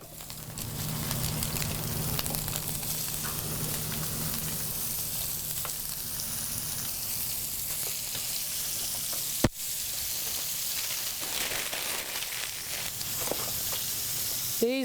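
Lamb and ground beef burgers sizzle steadily on a hot grill, a continuous dense frying hiss that holds throughout at close range with one sharp clack near the middle and no talking.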